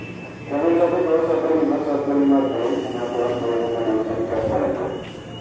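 A KRL commuter train passes on the Bogor line with a sustained rumbling roar and metallic tonal whine, loud and close throughout, while a voice talks over it.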